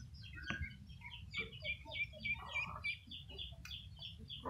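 Ducks on a farm during duck plague vaccination, with repeated quacking calls in short bursts over a steady murmur of the flock, fairly close and moderately loud, no talking.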